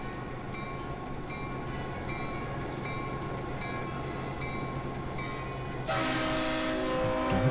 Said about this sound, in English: I don't know why that train horn was so loud from so far away